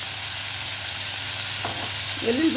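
Garlic cloves frying in oil in a pan for a South Indian chutney, a steady crackling sizzle throughout with brief stirring scrapes near the end.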